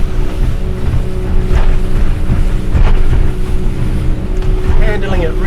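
A Merry Fisher 895 Serie 2 motorboat cruising at about 4,200 RPM and heading into choppy water, its engine a steady loud drone mixed with wind buffeting and water slapping against the hull.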